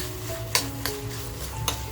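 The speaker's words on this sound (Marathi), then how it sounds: "आपण काजू छान अगोदर फ्राय करून घेऊया" Cashews frying in a pan give off a soft steady sizzle, broken by three sharp clinks from a spoon being stirred.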